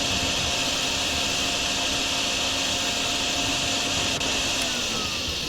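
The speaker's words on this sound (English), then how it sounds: "Okay, just kind of hoover up the water." A vacuum hoovers up floodwater on a flooded farm in the Drain Sim video game, a loud, constant whining drone that holds steady throughout without a break.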